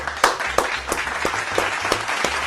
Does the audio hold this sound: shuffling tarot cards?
no